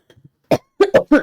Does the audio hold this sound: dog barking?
no